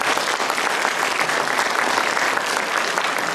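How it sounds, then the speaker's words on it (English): A lecture audience at Chatham University applauds to welcome Dr. Thang, a speaker on human trafficking of Vietnamese people. The clapping is dense, steady and fairly loud, a continuous wash of many hands with no voices over it. "I would like you to join me in welcoming Dr. Thang with a big applause"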